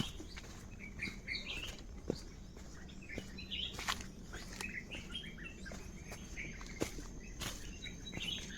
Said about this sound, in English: The dense canopy, the chirping of the birds, and the freshness in the air.